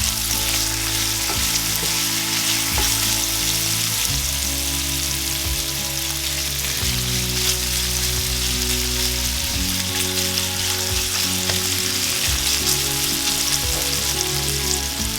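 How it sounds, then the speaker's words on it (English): Chopped bacon sizzles steadily over medium heat in a large skillet, a dense, continuous crackle and spit running evenly from start to finish with no voices. "in a large skillet, I cooked the chopped bacon over medium heat"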